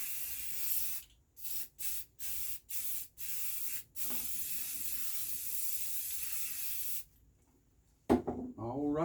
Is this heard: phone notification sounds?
no